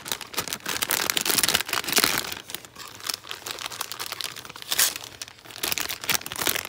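Paper crinkles and crumples in close, irregular bursts as it is pushed into a small container, a dry rustling that comes and goes.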